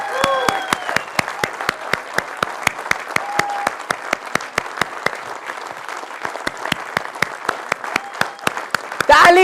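A big indoor audience at a corporate felicitation event claps to welcome a guest to the stage, a dense wash of applause punctuated by sharp, regular beats like rhythmic clapping, with a voice briefly rising near the end.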